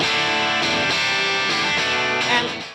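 A gainy, distorted electric guitar through a Marshall Plexi amp emulation rings out in sustained chords, loud and full, with no voices.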